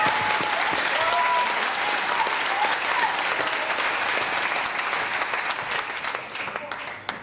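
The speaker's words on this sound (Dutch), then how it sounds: "Dus zij verdienen zeker een heel groot applaus." Applause from the audience at a student-organised evening show, the Grote Avond 2009 at TSG, thanking the stage crew. Dense, steady clapping fills the room and slowly thins toward the end, with faint voices mixed in.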